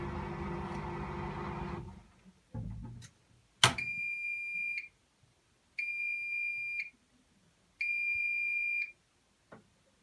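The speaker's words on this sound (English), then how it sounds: "when the wash machine is done with its cycle, you will hear the end beeps" Three loud, sustained electronic beeps from a Bosch Serie 4 WAN28050GB washing machine signalling the end of its cycle, each about a second long and evenly spaced, follow a brief burst of clatter and noise at the start.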